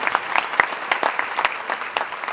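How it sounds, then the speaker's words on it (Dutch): A conference audience at a women's event breaks into brief, lively applause, scattered claps rising and thinning over a couple of seconds. "Willen we Bea Haring en alle juryleden even een welgemeend applaus geven."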